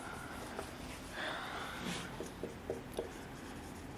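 Chalk or marker writing on a board gives short, faint scratching strokes in a quiet room, with soft breathing in the background.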